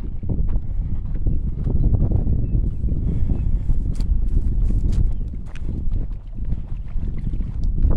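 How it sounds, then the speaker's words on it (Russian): Gusty wind rumbles against the microphone in steady low buffeting near a reservoir in Crimea, with faint clattering sounds mixed in. "Выйду, наверное, ветер будет задувать сильно"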